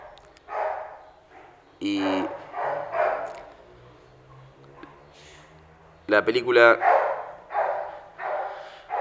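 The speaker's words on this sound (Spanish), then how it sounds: "hay un perro ladrando y me desconcentro" A dog barks in the background during an indoor press conference, with a short run of barks near the start and a louder cluster later, all under a man's continuous speech.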